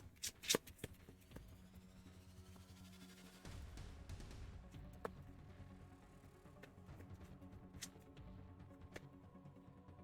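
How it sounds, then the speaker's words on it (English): Quiet, close riffling of Legendary card game cards being shuffled, with soft taps and flicks of cards at intervals. "So we're going to shuffle all of this."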